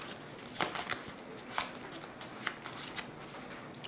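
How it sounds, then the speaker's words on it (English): A deck of cards is shuffled during an Arkham Horror board game session, giving several quick riffling bursts at close range, soft and crisp, with brief pauses between them. "We'll shuffle and grab one."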